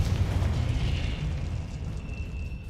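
A Confringo fire spell explodes in the Hogwarts Legacy video game, a loud, rumbling blast with a crackling tail that fades slowly without any talk.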